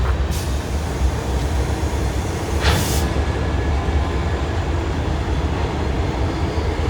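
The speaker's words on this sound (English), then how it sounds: "An SD40-3. Looks like that one's been recently reworked." An SD40-3 diesel locomotive crosses a railroad bridge at Kenova with a continuous loud, broad rumble and steady rolling noise, heard alone without voices.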